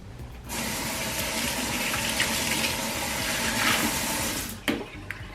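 Tap water runs steadily into a sink while small molds are rinsed, a continuous close gush that stops abruptly near the end, followed by a couple of light clinks.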